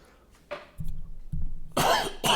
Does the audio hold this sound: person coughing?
yes